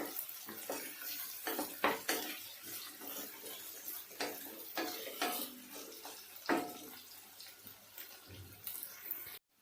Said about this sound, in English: again I will cook it for another 1 or 2 minutes while stirring it